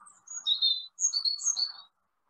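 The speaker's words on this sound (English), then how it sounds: "it's the robin" A robin sings in woodland with two short bursts of high, thin warbling phrases, fairly close and clear against an otherwise quiet background.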